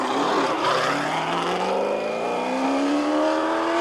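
Horst Kroll's Can-Am race car at Summit Point in 1986 pulls back onto the track after a long pit repair, its engine rising steadily in pitch as it accelerates away, loud and continuous with no talk.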